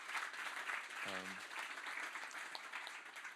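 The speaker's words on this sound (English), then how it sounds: "An applause for them as well, please" Steady applause from a conference audience fills the whole clip, a dense wash of clapping with a brief low hum or voice sound partway through.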